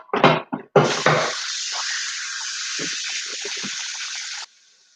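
Cold tap water gushes steadily over fried Nigerian egg rolls for several seconds, preceded by a few sharp knocks and followed by quiet.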